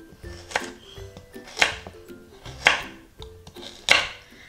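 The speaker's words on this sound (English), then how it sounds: "Now what we're gonna do is cut them into thick rounds." Carrots cut into thick rounds with a knife on a board for a slow-cooker chicken stew: four separate, evenly spaced chops, each a sharp close knock, with quiet between them and no talking.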